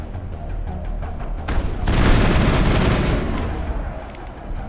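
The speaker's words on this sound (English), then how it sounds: "There you go again with that damn shotgun." Heavy shotgun fire in the sci-fi shooter Mass Effect, a rising burst of loud booming blasts that swells after a quieter start and then rumbles away, with no talking over it.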